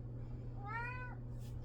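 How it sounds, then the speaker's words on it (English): A single short, clear cat meow, close by and alone against quiet room tone. "Hi, cat."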